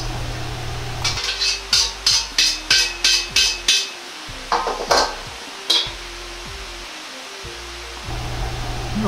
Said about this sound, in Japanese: そうしたら油をしっかりと切ります。